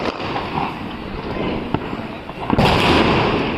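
Diwali fireworks shots from a multi-shot rooftop cake go off across a neighbourhood, with a steady crackling wash, a sharp pop near the middle and a louder burst of bangs toward the end.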